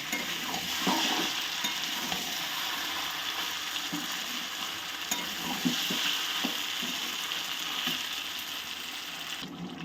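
Mixed vegetables for a Bengali labra are stir-fried in a pan, with a continuous moderate sizzle and occasional scrapes and knocks of a spatula throughout.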